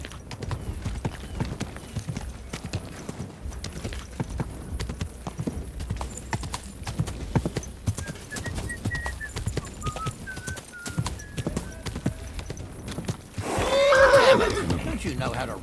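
A horse in Kingdom Come: Deliverance II clops along in steady hoofbeats, then lets out a loud neigh near the end, with people talking over the hooves.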